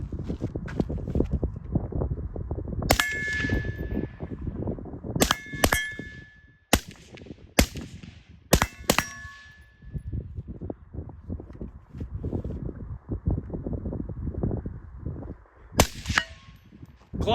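Rifle shots ring out on steel targets at a range while the shooter aims through a GUNNR Odin 1-8 FFP LPVO, giving a series of sharp metallic clangs, some in quick pairs, over steady background wind and rustle.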